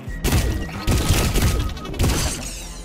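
Enemy gunfire in the game High on Life, a few loud, sharp blasts in quick bursts, crashing and thudding close by with no talk over them.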